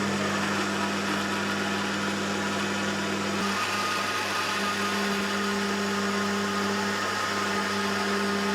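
A blender runs a steady motorized whir throughout, loud and continuous, blending cooked cauliflower and vegetables with their cooking water, its pitch shifting slightly partway through.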